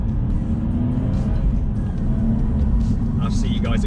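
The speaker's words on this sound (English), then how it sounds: "I'm going to drop it down a few gears because we're on a faster bit of road" A BMW M240i fitted with a Quicksilver exhaust drops down through the gears and pulls hard on a faster stretch of road, its loud, steady engine drone heard from close by beneath someone talking throughout.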